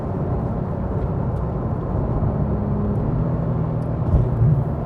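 A Porsche 991 GT3 fitted with a Dundon exhaust and headers, valves open, drones in sixth gear with a dense, steady engine roar inside the cabin that swells slightly near the end.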